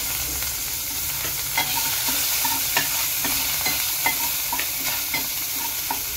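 Ginger garlic paste and tomato fry in hot oil for an egg curry, a steady loud sizzle with crackling pops and occasional stirring, no voices.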